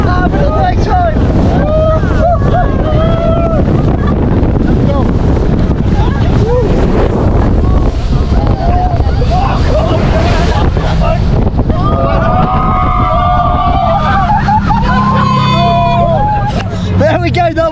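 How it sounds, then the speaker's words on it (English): A speedboat ride toward the caves of Comino in Malta, with loud buffeting wind and rushing water around the hull, and voices chattering and calling out over the engine and spray. "that was a little boat ride from our major boat on a speedboat heading to the caves of Comino"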